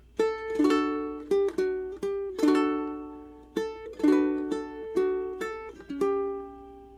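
Plucked ukulele notes picked one after another in a gentle fingerstyle pattern, clear and close with ringing decays and no voices.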